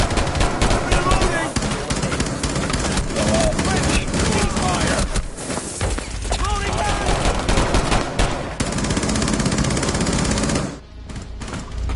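Rapid automatic gunfire in a Rainbow Six Siege Terrorist Hunt match rattles almost continuously, loud and close, in dense sustained bursts, with a short lull near the end before shooting resumes.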